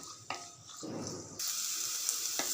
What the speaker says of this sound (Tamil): வெங்காயம் 1 நிமிஷம் வதக்கி விட்டுறலாம்.